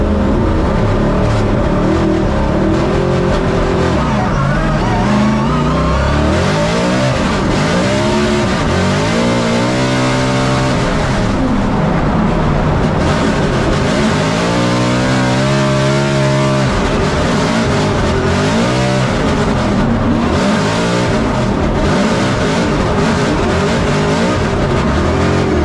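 An RTR Ford Mustang drift car at Formula Drift Atlanta under the lights, its engine roaring loud and steady with rising and falling revs and bouncing limiter notes, with tire noise, throughout.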